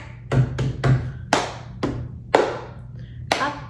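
Hand claps and cups tapped on a table in a rhythm cup game, sharp separate hits in an uneven pattern, some doubled, close and crisp over a low steady hum.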